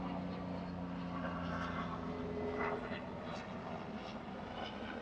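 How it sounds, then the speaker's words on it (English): A helicopter drones overhead at a moderate distance, its engine a steady hum that stays fairly constant throughout. "helicopter above."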